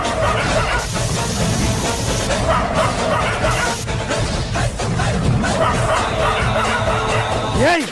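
A pack of dogs barking and yelping loudly together, continuous and chaotic, with some background rumble.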